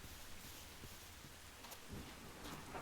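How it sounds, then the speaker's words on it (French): Thunder and rain in the video game Fossil Park, a faint, steady wash of rainfall with low rumbling swells, brief and distant. "Super, encore des éclairs qui tombent."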